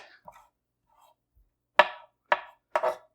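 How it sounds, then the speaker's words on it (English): A knife rough-chops fresh garden basil on a cutting board, giving three crisp, close chops after a few faint small taps. "And I'm going to chop up some of this basil that I got from my arrow garden over there."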